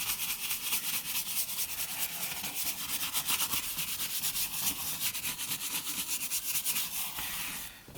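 Steady scrubbing brush agitation on a leather car seat during interior cleaning, a close, continuous rubbing rasp with rapid even strokes, fairly quiet, with no talk.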